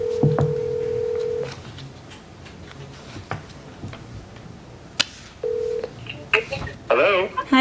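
A desk phone dials out to add another caller to a conference call, with a steady dial tone, quick keypad tones and clicks, and muffled handling noise between them, close and fairly loud.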